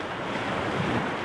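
Sea waves roll onto the beach at Llandudno, Wales, a broad, continuous wash of surf with buffeting wind noise on the microphone and no voices.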